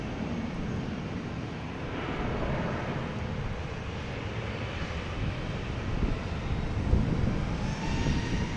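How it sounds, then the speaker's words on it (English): An American Airlines Airbus A321 takes off from Boston Logan bound for Philadelphia, a steady broad jet roar rumbling from a distance, sustained and fairly even throughout, with no voices. "American Airlines taking off, heading to Philadelphia. A321."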